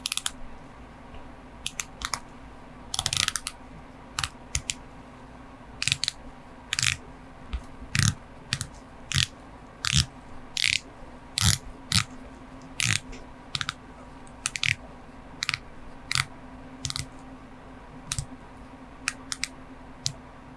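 An Omega Seamaster Diver 300M 007 First Light watch bezel is turned in a series of crisp, close ratcheting clicks, some single and some in quick bursts, set against a quiet room hum.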